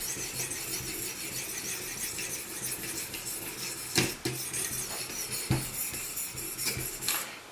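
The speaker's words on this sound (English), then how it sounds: "You can hear what the stone is doing now if I stop talking." Steel knife blade of CTS-XHP being freehand sharpened on a sharpening stone, a quiet continuous gritty rasping with occasional sharper scrapes and clicks as strokes change, close and faint.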